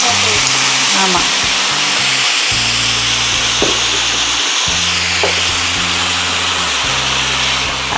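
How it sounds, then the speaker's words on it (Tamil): Tofu and egg fry in a pan while being stirred, giving a continuous loud sizzle over a steady low hum from start to end. "கொஞ்ச நேரம் ஒரு நிமிஷம் கிண்டிட்டு சாஸ் ஊற்றிடுறேன்"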